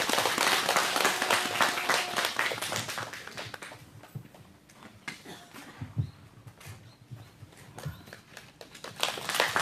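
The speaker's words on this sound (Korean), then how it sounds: "힘찬 박수 부탁드리겠습니다" Applause at an outdoor rally opposing THAAD deployment, a crowd clapping loudly at first, thinning to scattered claps and then swelling again at the end.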